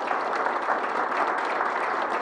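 A crowd claps steadily, a dense, even wash of applause that holds at the same level from start to finish.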